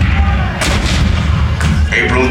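Cannon artillery fire at Fort Sumter in April 1861: two heavy booms about a second apart, each a loud blast rolling over a deep, continuous rumble, close and forceful.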